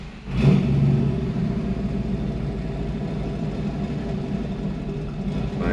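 A Ford Crown Victoria fitted with a 7.3L Godzilla V8 turns over and fires, then settles into a steady, close, low rumbling idle that continues evenly without any talk.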